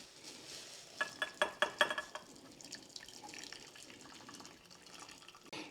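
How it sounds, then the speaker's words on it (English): Cooking juices from chicken are poured off a pan, giving a faint trickling, splashing liquid sound. A few clinking taps come early, and the pour softens into an uneven dribble. "What we're going to do is try to carefully pour off this juice that we have built up in here."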